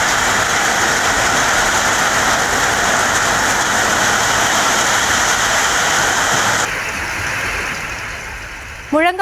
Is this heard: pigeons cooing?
no